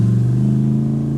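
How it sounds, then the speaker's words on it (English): An Audi S6 V8 revs while driving, a close, steady low engine drone with strong harmonics in a short burst, with no talking. "the V8 sounded great."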